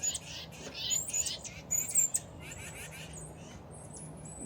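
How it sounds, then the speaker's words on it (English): Small garden birds chirp and tweet in a quick, busy chatter, loudest in the first two seconds, over a low steady background hum in a spring garden with Japanese maples and fresh mulch. "I don't know if they're playing or fighting or whatever."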